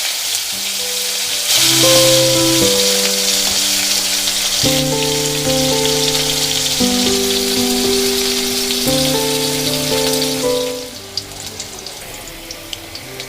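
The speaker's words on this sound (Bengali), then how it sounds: "এবার উচ্ছেগুলো লাল লাল করে ভেজে নেব। উচ্ছেগুলো কিন্তু একদম একটু কড়া করে ভাজবেন।" Bitter gourd pieces frying in oil give a constant crackling sizzle beneath a louder background melody, and the hiss drops away sharply near the end.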